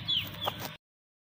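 Hens cluck in a home yard at dusk, a few close, sharp clucks and squawks in quick succession before the sound cuts off abruptly.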